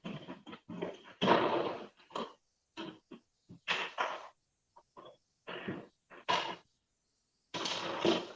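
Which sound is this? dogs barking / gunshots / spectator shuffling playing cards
dogs barking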